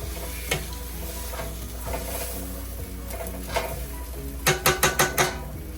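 Meat for a pot roast sizzles and browns in a pot on the stove, a steady crackle with scraping and clinking as pieces are turned, ending in a quick series of five metallic taps.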